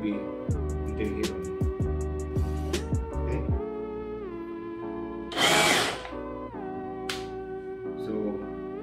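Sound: power drill drilling

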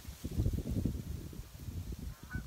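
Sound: wild birds honking at a spring marsh

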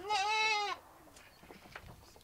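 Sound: goats bleating

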